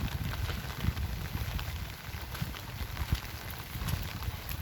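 Rain falls steadily, giving an even, close hiss of drops with occasional louder patters over a low, rumbling background.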